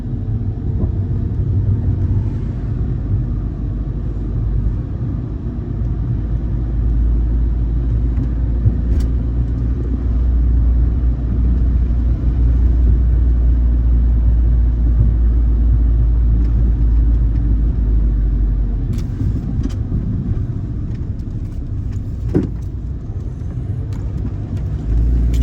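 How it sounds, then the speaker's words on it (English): A car drives along a tree-lined residential street in Richfield, Minnesota, giving a steady low engine and road rumble throughout, close and continuous with no talking. "Driving down Lindale again."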